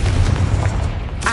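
Bombarda and Confringo spells explode in Hogwarts Legacy on PS5, giving loud booming blasts with a rumbling low end that fill the short stretch almost continuously.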